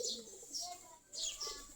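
Local Giribaj pigeons gathered near their coop in the afternoon after feeding give soft, low cooing calls in two short bursts, close by and fairly quiet, with faint chirps mixed in.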